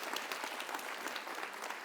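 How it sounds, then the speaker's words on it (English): Audience applause at a student conference, a continuous wash of many hands clapping, fairly faint and distant, with no voices over it. "a collective round of applause is happening"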